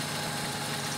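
Honda Civic LXi engine idling while running hot, a steady, dense mechanical hum with constant low vibration and no pauses, heard alone at close range.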